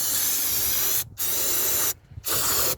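Carb cleaner hisses steadily onto car engine parts during a service on a Rover 45 with a CVT, in three close bursts separated by two brief pauses.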